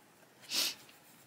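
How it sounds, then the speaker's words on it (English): A single short sniff through the nose from a woman drawing with coloured pencils, quiet and close, rising and fading in about a third of a second amid near silence. "Oh, excuse me sniffing."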